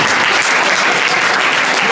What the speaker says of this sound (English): I think this deserves a bigger round of applause